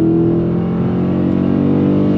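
A Dodge Challenger Scat Pack's 6.4-liter Hemi V8 revs loud and close, a deep continuous engine roar with no talk over it.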